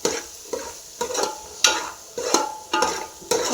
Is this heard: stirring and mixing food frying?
yes